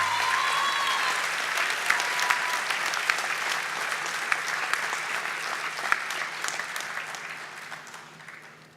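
Sustained applause from an audience at a senior athletic awards ceremony, steady and dense clapping that tapers off toward the end, with a faint voice briefly heard early on.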